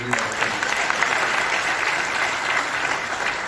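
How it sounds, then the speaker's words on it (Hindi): Audience applause at a leadership training event in Mumbai, a thick, even burst of clapping from a large crowd, loud and sustained with no letup. "जोरदार तालियां एक बार"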